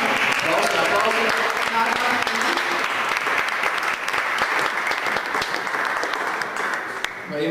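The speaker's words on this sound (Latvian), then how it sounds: "Aplausi." Dense, sustained audience applause greets the performers at a Latvian song performance, filling the full stretch at steady loudness with some voices mixed in beneath it.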